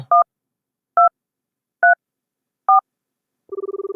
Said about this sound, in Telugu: కస్టమర్ కేర్ కి ఫోన్ చేయి